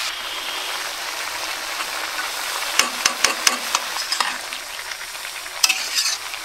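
Green beans (barbati) and vegetables stir-fry in a pan with a continuous low sizzle, punctuated by a run of sharp spatula clicks and scrapes against the metal, close and moderately loud.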